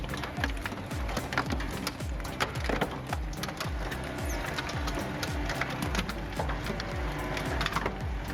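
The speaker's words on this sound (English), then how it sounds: "watching PVC pipes collapse under 4 spinning shafts" A four-shaft industrial shredder crushes PVC pipes, giving a dense run of sharp cracks, snaps and splintering crunches over a constant mechanical grind, loud and close throughout.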